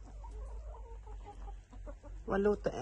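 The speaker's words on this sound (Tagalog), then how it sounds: "nangingitog pa yung manok namin eh" Soft clucking from backyard chickens sheltering indoors on a snowy day in Denmark, with a louder burst of cackling near the end over a low background rumble.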